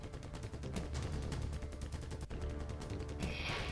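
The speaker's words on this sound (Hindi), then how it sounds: "गुजरात में राजकोट म्यूनिसिपल कॉर्पोरेशन ने आतिशबाजी शो का आयोजन किया।" Diwali fireworks at a municipal show in a cricket stadium in Rajkot crackle and pop in a dense, continuous barrage of rapid bursts, heard at a steady moderate level throughout.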